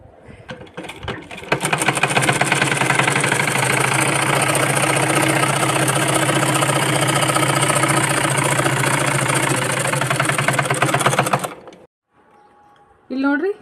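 Sewing machine stitching a fabric pencil pouch: a loud, steady mechanical whir with a rapid needle rhythm running for about ten seconds, then stopping abruptly before a short final burst.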